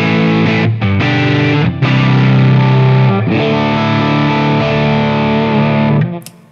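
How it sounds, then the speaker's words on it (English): An electric guitar runs through an Xotic Soul Driven overdrive pedal at its cleaner, lower-gain setting, strumming sustained chords with a few brief breaks between them. The tone is loud and full, and it ends with a quick fade. "if you want to have a pedal that can go from that type of sound"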